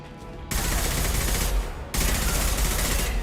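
Rifle gunfire in Mass Effect 2, Legendary Edition: two sustained loud bursts of rapid automatic fire, the first starting after a short quiet lead-in and running about a second and a half, then a brief dip before a second long burst.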